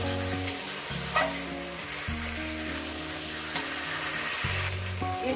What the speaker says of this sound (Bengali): দেখছেন বন্ধুরা কীভাবে মাছের মাথাটাকে কষিয়ে নিচ্ছি